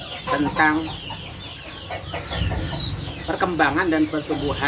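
Sentul kampung chickens cluck and squawk on a farm, several close birds giving repeated bursts of clucking and a short crow-like call, with someone talking over them.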